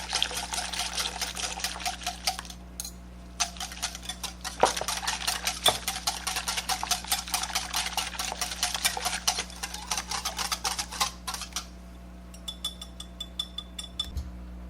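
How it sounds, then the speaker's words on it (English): Wire whisk rhythmically beating warm milk into eggs for Spanish flan custard, a steady rapid clatter of metal against a bowl for most of the stretch, close and fairly loud, fading near the end with no talking. "Now that I've whisked this,"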